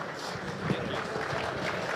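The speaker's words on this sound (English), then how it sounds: "If we can give a big round of applause to Cliff Oberlin," Brief burst of applause from a conference audience greeting a panel moderator, a dense, even wash of clapping throughout.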